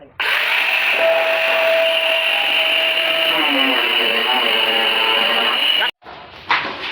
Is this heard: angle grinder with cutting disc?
yes